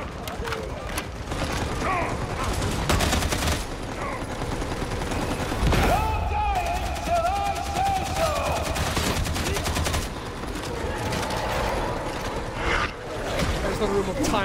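Dense, continuous gunfire from Gunner enemies in Warhammer 40K Darktide, rapid machine-gun bursts layered with mechanical clatter, loud and close throughout, with a voice talking over it.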